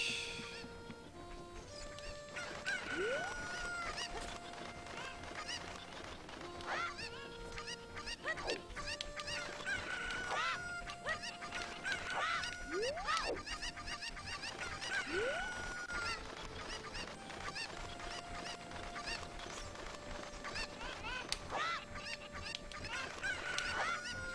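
Cucco chickens in the video game Zelda: Ocarina of Time squawk and honk repeatedly in scattered bursts over a busy bed of game sounds, with the calls recurring every few seconds at moderate volume.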